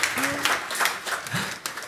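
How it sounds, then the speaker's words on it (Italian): Conference audience applauding at a job-orientation event in Tortolì, Sardinia, a dense, steady patter of many hands clapping at moderate volume, with faint voices murmuring underneath. "Fammi un applauso per il fatto che già abbiamo una dottoranda"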